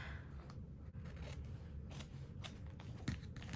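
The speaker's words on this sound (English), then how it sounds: "Actually, let's cut it this way" Scissors snip through paper for a Daphne's Diary gratitude journal, a run of close, soft repeated cutting strokes in a quiet room.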